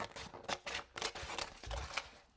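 Scissors snip repeatedly through faux rice paper, a quick series of close, crisp cuts in an irregular rhythm with small rustles between them.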